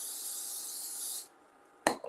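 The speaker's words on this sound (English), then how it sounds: "I'll give them a little spray," Cooking oil spray is misted over food before air frying, a steady close hiss that lasts about a second and then stops abruptly, followed by a brief clatter of handling.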